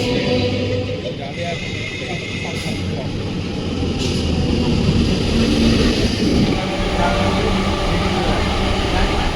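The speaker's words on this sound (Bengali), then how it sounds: "এই যে আমাদের ট্রেন ঢুকে গেল" Loud, steady rumble and rolling clatter of a train pulling in, broad and continuous throughout, with a faint hiss on top.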